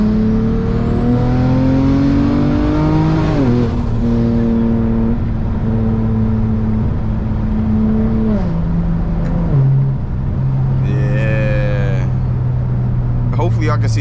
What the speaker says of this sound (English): I love the sounds that it gives off, like when I turbo flutter.